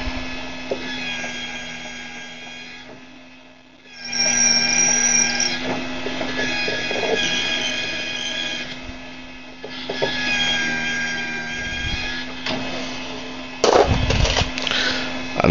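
Small electric motor of a Hornady case prep trio running steadily with a steady tonal whine, close by, dipping briefly as brass cartridge cases are worked, with rubbing and scraping of the tool on the case.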